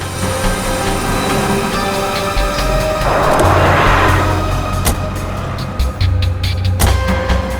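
A car's engine hums steadily at a moderate level with a low rumble, and a brief rustling whoosh passes through partway. Occasional knocks and thumps come from around the vehicle.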